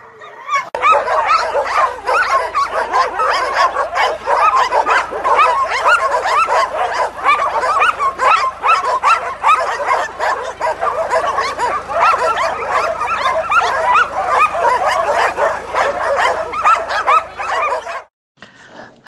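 A large crowd of dogs barks, yelps and whines nonstop at an arrival, the dense overlapping chorus sustained loud and close for most of the stretch before cutting off abruptly near the end.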